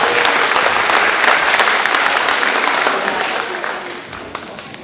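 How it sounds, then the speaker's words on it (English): Audience at a school student showcase bursts into sustained applause for the new assistant principal, many hands clapping steadily and loudly before tapering off toward the end. "Let's give him a round of applause."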